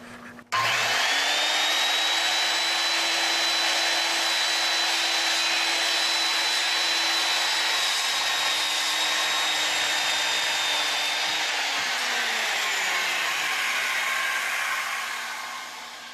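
A power saw cutting a wooden hip rafter: the motor spins up to a steady, loud whine that holds for about ten seconds, then winds down and trails off. No one speaks.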